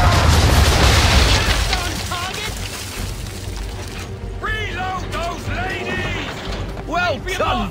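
Ship cannons firing round shot in the Assassin's Creed III game, a loud blast up front that fades into creaking and mechanical rattling, with voices talking partway through.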